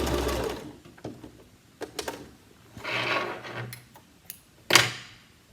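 Sewing machine stitching a t-shirt in several short bursts of rapid needle clatter, separated by pauses and small handling clicks, close and fairly loud.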